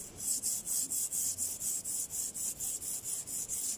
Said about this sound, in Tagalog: Sprayan ko siya guys. Tapos, kuskusin ko siya dito.